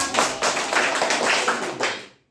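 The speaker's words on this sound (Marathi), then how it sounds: "तीन टाळ्या वाजवा" A classroom of second-grade children clapping together, a dense burst of many hands in a few quick rounds, loud and close with no talk over it.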